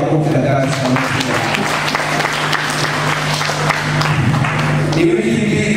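An audience at a community development college in Tabora applauds for Dr. Samia, a loud, sustained round of clapping with a voice talking over the hands throughout.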